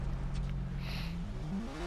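Motorcycle in the Watch Dogs video game, a quiet engine drone rising in pitch as it revs and accelerates over roughly two seconds, faint and without talk.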